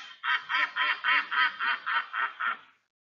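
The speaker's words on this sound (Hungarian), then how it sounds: "A kacsa jön." A duck quacks about nine times in a quick, even run, close and clear against silence.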